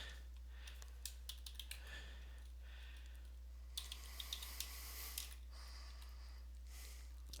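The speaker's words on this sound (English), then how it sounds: "I have to type something in." A computer keyboard is typed on in scattered quick bursts of soft, close clicks over a low steady hum, with pauses between the keystroke clusters.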